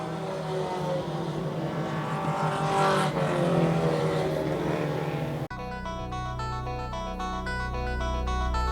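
Four-cylinder Pro Stock race cars running a heat race at Wiscasset, a loud, dense engine roar that builds and then cuts abruptly to tonal music for the remainder.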